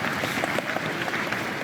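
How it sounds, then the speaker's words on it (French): A crowd applauding rescuers at a memorial gathering after a fire in Crans-Montana, a brief, fairly quiet patter of clapping at some distance. "La foule applaudit ces secouristes venus se recueillir."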